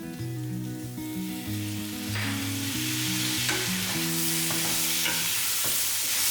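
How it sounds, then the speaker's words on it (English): Mixed vegetables frying in a pan, a steady close sizzle running throughout, with a music-like tonal layer over it and occasional scraping knocks of stirring, no voices. "Then add all the other vegetables and give everything a good mix."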